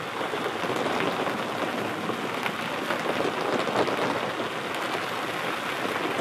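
Steady rain drums on a tarpaulin stretched outdoors in foul weather, a dense continuous patter with scattered sharper drop hits, fairly close and even in loudness throughout, with no voices.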